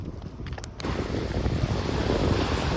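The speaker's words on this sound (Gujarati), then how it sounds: "દરિયાના મોજા ઉછળી ગયા છે" Rough sea waves surge near the shore at Dwarka, a broad continuous wash of water mixed with heavy wind buffeting, growing louder after a brief quieter opening with a few clicks.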